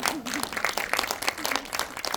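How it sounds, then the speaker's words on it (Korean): Audience applause at a December 2024 AI film festival at the Busan Cinema Center: dense, steady clapping from a seated crowd, filling the whole moment with a voice faintly mixed in. "박수 안 나옵니까?"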